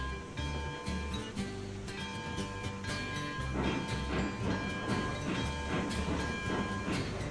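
Train in the game Railroads Online slowing under added brake, with a steady rolling rumble, rhythmic clickety-clack and a faint hiss, continuous and moderately loud throughout.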